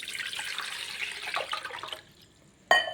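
Water poured from a cup into a pan on a stove, a soft splashing stream for about two seconds, then quiet and a short sharp clink at the end.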